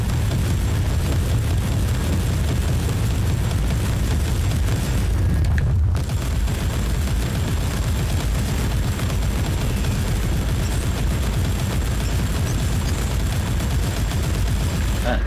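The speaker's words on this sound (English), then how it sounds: "Heavy firepower! Tarantula Sentry Gun, eh?" Tarantula sentry gun from the game Inquisitor Prophecy firing heavy, sustained bursts of dense booming gunfire that fill the clip with a brief break near the middle, loud and continuous.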